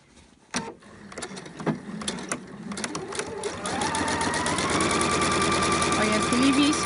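A domestic sewing machine stitches a shirt collar, starting with a few clicks and short bursts, then settling into a steady fast whirring run, close by.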